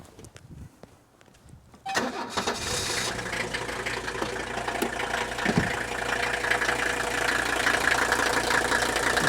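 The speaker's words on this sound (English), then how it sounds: "it's got a very similar sound to Green Go in terms of the injector noise at idle" A 1983 Mercedes-Benz 300D diesel engine fires up after a quiet moment and settles into a steady, loud idle with a distinct clattering injector knock that holds throughout.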